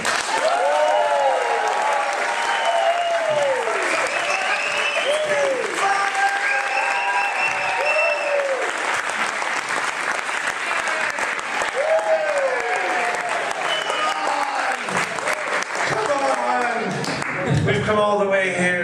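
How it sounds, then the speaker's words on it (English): Sustained loud audience applause at a comedy show, dense clapping from a full room continuing for many seconds, with shouting and speech-like crowd voices mixed in. "let's start the round of applause"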